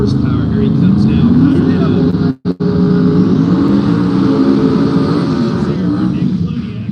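A drag race car roars past at a no-prep race in the woods, a loud, sustained engine blast with rising pitch that cuts out briefly midway and then carries on.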